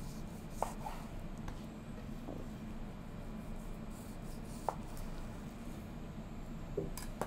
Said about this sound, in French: Donc on va faire 2 tranches, 2 belles tranches.